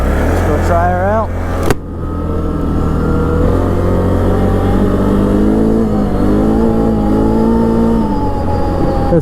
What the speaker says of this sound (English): V-twin is a very smooth, powerful engine.